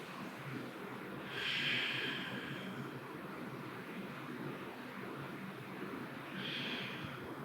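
Slow, deep breaths during a yoga pose, two soft airy exhalations a few seconds apart, close and quiet against a faint background hiss.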